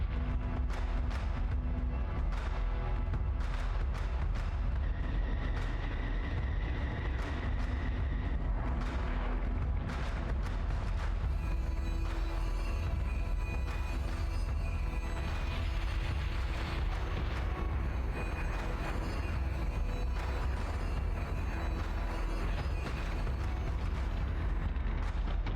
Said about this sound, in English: So we were landing some really good torpedo hits with the Separatists.